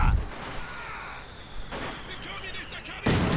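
Mortar rounds fire and explode during a Men of War 2v2 multiplayer battle. Sharp booming blasts come at the start, partway through and at the end over a rumbling background, and a voice talks over them.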